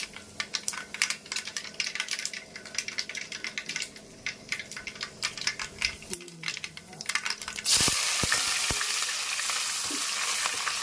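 Onions tossed into hot oil in a pan for a fish-head curry, crackling and sizzling with scattered stirring clinks, then a sudden louder, steady hiss of frying that holds to the end.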